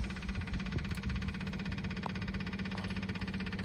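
A Rutan Defiant BigEZ twin-engine aircraft's front engine runs with a steady, loud, close mechanical drone and even rhythmic pulsing throughout, no voices over it.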